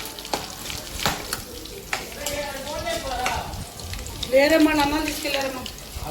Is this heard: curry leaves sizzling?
yes